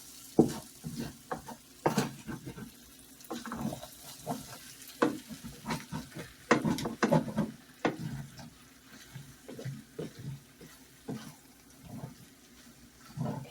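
Hash browns sizzling in a pan while a utensil scrapes them off the bottom, giving irregular scraping strokes and knocks over a steady close frying hiss, with no talk.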